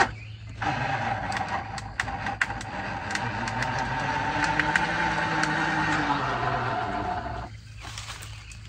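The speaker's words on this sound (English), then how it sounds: "you hear the water pouring out of both the exhaust and the snorkel." Water gushes out of the exhaust and snorkel of a sunk Honda, a steady loud rushing and sputtering over engine noise that cuts out near the end.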